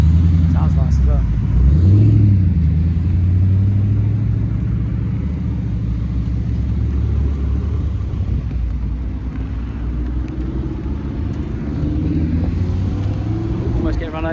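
A Cosworth-engined race car at a half-mile roll racing event rumbles loud and close with a deep, steady engine note that rises briefly early on, while someone talks over it throughout.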